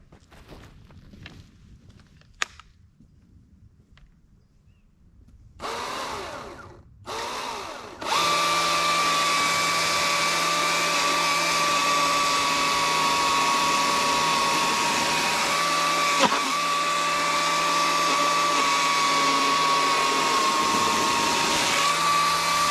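EGO CS2005 20-inch battery chainsaw cutting a big blown-down tree, quiet rustling at first, then the saw whirs up in short bursts before settling into a loud, steady, high-pitched cutting whine.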